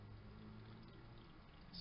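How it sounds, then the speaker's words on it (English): Water flows steadily into a refrigerator icemaker at the start of its fill cycle, a low, continuous pouring sound that is faint and close, with no talk over it. "Okay, water is coming in,"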